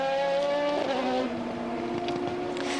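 Le Mans Series race cars at Silverstone, with Oak Racing Pescarolo Judd prototypes in the field: a steady, loud engine drone whose pitch dips and shifts as a car passes, with no talk over it.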